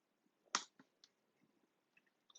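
A few sharp, quiet mouse clicks sound up close, irregularly spaced, with one crisper click standing out.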